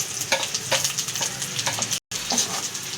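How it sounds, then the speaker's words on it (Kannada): Dry red chillies frying in oil in a pan for mango chitranna, a steady close sizzle with stirring scrapes, broken by a brief silent gap near the end before the crackle resumes. "ಒಣಮೆಣ್ಸಿನ್ಕಾಯಿನ ಹಾಕ್ಕೊತಾ ಇದ್ದೀವಿ"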